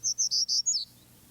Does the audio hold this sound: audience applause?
no